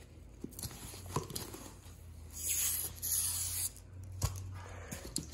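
The backing is peeled off a new sticker for a Nissan GT-R R35 F1 light. Faint rubbing and scraping lead into a brief, slightly louder tearing rasp midway, in an otherwise quiet space.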